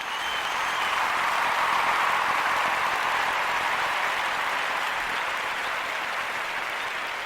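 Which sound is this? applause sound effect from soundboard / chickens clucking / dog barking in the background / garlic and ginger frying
applause sound effect from soundboard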